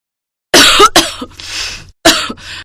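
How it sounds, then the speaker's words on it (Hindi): A sick woman coughs hard and close, two harsh fits each with a couple of rough barks, separated by a short pause. "वो बिस्तर से उठ नहीं पा रही थी और पूरा दिन बस खांस रही थी।"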